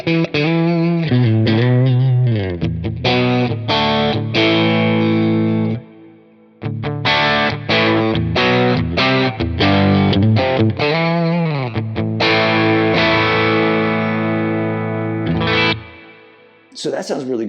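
Distorted electric guitar playing chords and riffs on a Fender American Vintage II Stratocaster in an in-between pickup position, rich and warm with a chorus-like shimmer, loud and close, with a brief pause midway.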